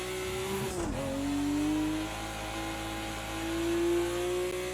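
BMW 1M StanceWorks Edition engine revving through the gears in Project CARS 2 at the Bathurst circuit, a steady loud drone that dips on a shift and climbs again, with no talk.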